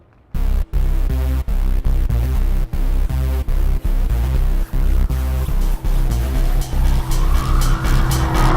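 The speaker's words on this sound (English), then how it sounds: "to test one of the fastest cars in the world, the McLaren MP4 12C" McLaren MP4 12C sports car driven hard on a racetrack, engine roaring loud and close with rapid rhythmic gear-shift cuts, then rising in pitch as it accelerates, with hints of tire squeal.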